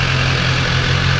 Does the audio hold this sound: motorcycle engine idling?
yes